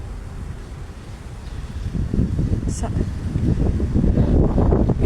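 Steady wind rushes and buffets the microphone, growing stronger midway, with a faint voice underneath.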